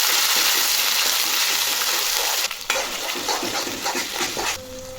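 Cumin, mustard seeds, curry leaves and a homemade masala sizzle steadily in hot oil while being stirred and sautéed for puri bhaji, with a loud continuous fry, scraping strokes, and a brief clatter near the end.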